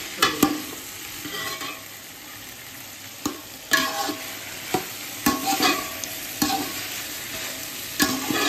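Cooked mutton tossed and stirred in a hot pan of biryani masala, a steady sizzle broken by repeated scraping stirs with a few sharper clanks, close and loud with no talking.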